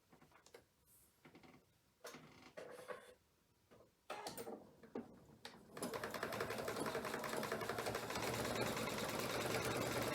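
Sewing machine stitching a quilt's center seam, starting with a few short bursts and clicks, then running steadily and loudly in a continuous buzzing drone for the last several seconds.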